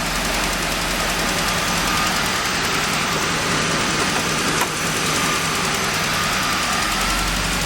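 Loud, sustained roar of a 1989 Trans Am engine held at high revs after a burnout, close and steady throughout.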